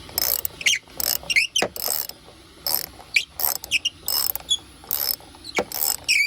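Repeated ratcheting clicks and mechanical rattles in short bursts as a plastic pool filter clamp is worked loose by hand, fairly close and crisp, with brief pauses between turns and no talking.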